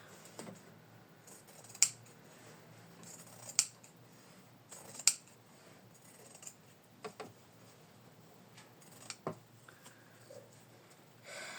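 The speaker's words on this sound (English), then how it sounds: "we need to cut the fabric from the back finally" Scissors snip through the fabric around a piece of machine embroidery: several sharp, crisp cuts spaced a second or two apart, close by against a quiet background.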